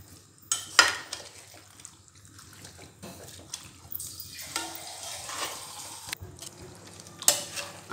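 Chicken is stirred together with black pepper, red chili and salt in a pan, giving quiet scraping and stirring with a few sharper utensil clinks against the pot.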